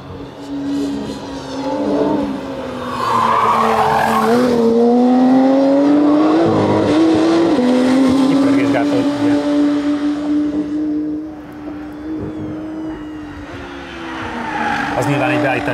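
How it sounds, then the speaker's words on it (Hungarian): Race car accelerating hard on a track, its loud, close engine note climbing and dipping with exhaust popping and bursts of tire squeal between gear changes. "azt hallom, hogy kigyorsításon ez a durrogás"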